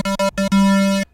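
A bright, buzzy synth lead tone with rich harmonics plays two short notes, a third, then one longer sustained note before stopping, loud and close.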